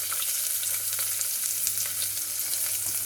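Onion, garlic, cumin and dried red chillies sauté in hot oil in a pan, giving a steady, close hiss and crackle that runs without a break, with no voices over it.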